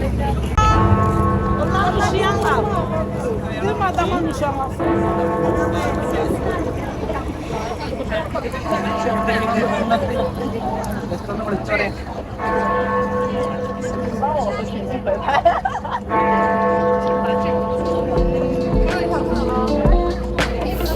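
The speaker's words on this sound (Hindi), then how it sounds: "लो जी सुन लो, घंटी बिग बेन दी" The Big Ben bell at the Palace of Westminster, London, rings out in slow, resonant tolls, sustained and fairly loud, mixed with outdoor crowd and traffic noise.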